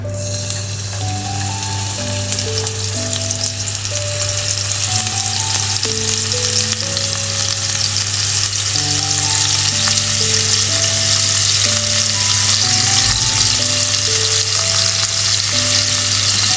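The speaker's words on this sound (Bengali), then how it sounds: "মাছগুলোকে সুন্দরভাবে ভেজে নিচ্ছি" Aair fish frying in a pan, a steady close sizzle running throughout with soft music playing over it.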